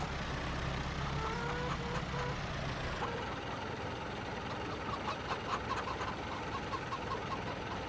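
Chickens clucking in a pen in the Farming Simulator 25 video game: scattered short clucks over a steady low engine rumble that drops away about three seconds in, leaving quieter farm ambience.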